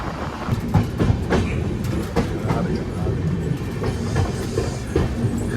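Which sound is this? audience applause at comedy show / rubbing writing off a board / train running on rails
train running on rails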